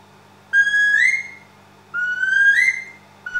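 Two rising, plaintive whistle notes from a wooden bird call, each about a second long with a gap between, clear and close, imitating a plover.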